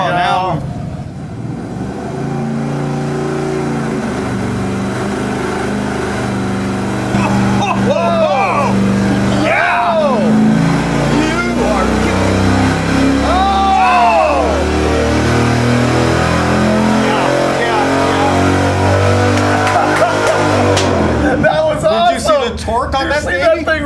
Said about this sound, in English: That was the very first dyno pull that we made with the 383 Mopar